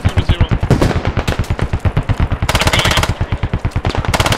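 Machine gun fire in the video game Squad, loud, sustained bursts of rapid rhythmic shots with brief breaks and shifts in tone; no talk.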